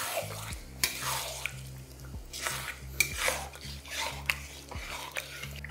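Mutton slow-cooks in a pot over a low flame while a spoon stirs it, making irregular scrapes and metallic clinks against the pot over a low background hum, at moderate volume.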